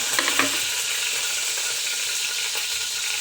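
Curry leaves crackling in hot oil for a sprouted moth bean usal, a loud broadband sizzle with a few sharp pops near the start, close up and steady throughout, with no talking.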